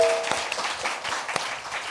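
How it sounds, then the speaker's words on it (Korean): A talk show's studio audience gives brief, scattered applause, faint hand claps lasting under two seconds. "여러분의 힘찬 박수와 함께 시작하겠습니다"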